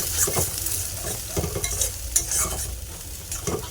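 Egg and chopped onion fry in a hot pan while a spatula stirs them, making a steady close sizzle with repeated scraping and tapping strokes and no talking.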